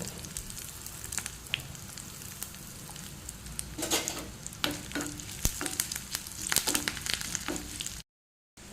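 Dry chilli, curry leaves and asafoetida crackle and sizzle in hot tempering oil, a close, continuous frying hiss with sharp pops and spatters, ending in a brief silence.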